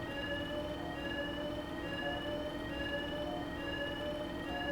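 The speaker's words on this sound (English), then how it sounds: "accidentally triggered the fire alarm" A fire alarm in the video game Hitman Freelancer, set in a snowy Hokkaido location, wails steadily and faintly as a continuous tonal siren over a low ambient hum.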